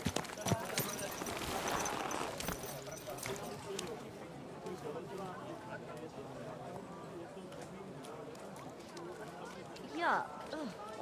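Horse hooves clip-clopping with occasional snorts, close by and steady over about eleven seconds, under ongoing speech and background ambience, with a brief louder snort-like burst near the end.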